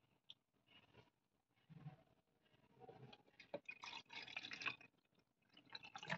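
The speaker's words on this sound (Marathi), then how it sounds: "आता वापस ह्याच्यात आपण पाणी टाकूया." Water is poured into an emptied container during a solvent experiment, a faint trickle building into a fuller splashing stream with small drips, heard close and without talk.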